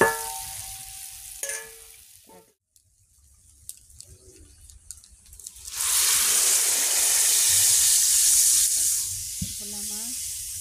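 Fish added to boiling spiced water for a curry sets off a loud, sustained bubbling hiss that rises abruptly after a quieter stretch of soft clatter, with brief talking around it.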